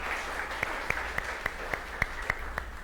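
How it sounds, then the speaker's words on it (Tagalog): A congregation at a Sunday church service claps for Jesus in a steady, rhythmic beat of sharp, evenly spaced claps. The clapping is fairly soft and distant, with a low hum underneath. "The best pong palakpak para kay Jesus."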